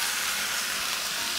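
Mixed ground pork and beef frying in olive oil in a preheated pan, a steady, bright, close sizzle with no pauses or voices.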